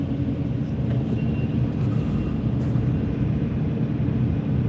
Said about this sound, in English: take a sneak peek at this fucking Kenworth as he's pulling up